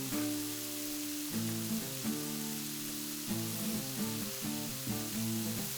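Thin-sliced pork sizzling on a Korean barbecue grill, a steady broadband hiss of frying fat under a background of tonal music, with no talking.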